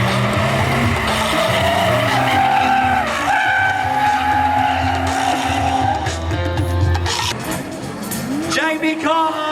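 BMW race cars skid and squeal their tires in an all-out brawl at a car show race, engines roaring loudly and continuously with screeching rubber throughout, while a commentator's voice cuts in under the noise.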